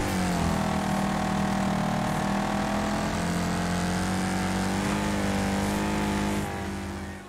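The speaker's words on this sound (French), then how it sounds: "le bruit du moteur est trop agréable" A car engine in a racing video game revs continuously and loudly, a sustained buzzing roar shifting in pitch for several seconds before fading slightly at the end.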